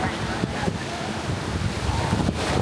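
Small ocean waves wash at a beach in Salvador, Brazil, a steady broadband rush with soft swells and gusty wind on the microphone, no clear voices.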